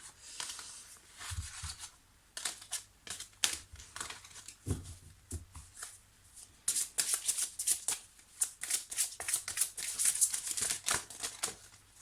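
Oracle cards are shuffled by hand in quick, soft riffling bursts and slaps, close and quiet, with brief pauses between rounds and faster flurries toward the end.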